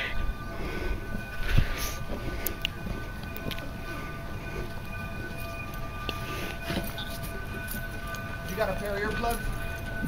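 Train approaching and passing along a track on the Cumbres line, a steady rumbling roar with faint metallic clatter and a few sharp knocks, moderately loud and close, while people talk nearby.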